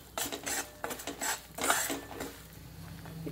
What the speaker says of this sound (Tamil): நல்லா கலக்கிக்கோங்க.